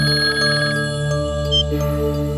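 An electronic phone ringtone plays loudly and continuously, a steady tonal melody with no one speaking.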